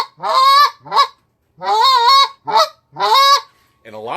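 Geese give a series of short and soft moaning calls, five or six nasal honks in uneven rhythm, close and clear with brief silences between.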